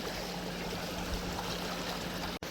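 Floodwater rushing under a bridge after water was released from a reservoir, a steady, dense roar of flowing water heard alone and fairly faint, with no talk.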